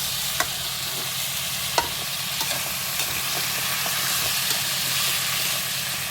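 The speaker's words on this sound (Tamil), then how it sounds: "காய் நல்லா எண்ணெயிலே வதங்கணும்." Chopped vegetables sautéing in hot oil in a pan for prawn curry, a steady loud sizzle and hiss with occasional soft clicks of stirring, heard close with no talking.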